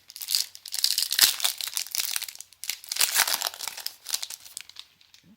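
An Oath of the Gatewatch Magic booster pack wrapper torn open: close, bursty crinkling and ripping of foil plastic in several quick bouts, with brief pauses between tugs.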